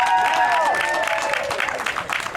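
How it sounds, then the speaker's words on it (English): During a Sunday new building blessing service, a church congregation applauds its relocation committee. Clapping builds, a few high tonal voices or whoops sound early, and the clapping thickens into a crowded round. "I want to give a round of applause to these beautiful beloveds"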